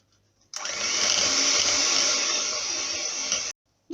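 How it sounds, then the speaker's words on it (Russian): An electric mixer whirs at a steady high pitch for about three seconds, folding coconut flakes into thick whipped cream, then stops abruptly, with silence on either side. "И теперь мы добавляем кокосовую стружку и промешиваем миксером."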